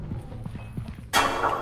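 Monster footsteps in the Content Warning game: a string of evenly spaced heavy thuds, then a sudden loud broadband burst of noise that covers the steps near the end, with no talking.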